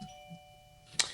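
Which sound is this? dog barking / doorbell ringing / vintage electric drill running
doorbell ringing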